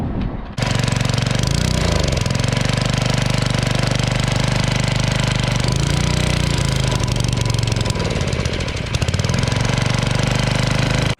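A pressure washer engine runs loud and close without reaching full power. It holds a steady rough drone with a few dips and wavers in pitch, and no one talks over it.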